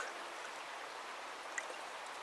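Tap water running steadily into a cooking pot outdoors in the bush, a continuous soft trickling hiss close by with no talk.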